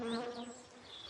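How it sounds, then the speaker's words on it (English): Bees buzz around newly planted geum flowers in a garden, a close steady droning hum with a slight rise and fall in pitch over a brief moment. "You plant a geum, and literally within a minute, there are bees."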